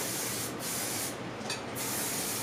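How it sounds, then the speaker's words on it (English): Hairspray hisses into short hair being styled into a pixie cut, a close, steady aerosol spray lasting about two seconds with brief dips between bursts, and no voices. "I'm going to just start spraying it into the hair because I want to saturate the hair with product."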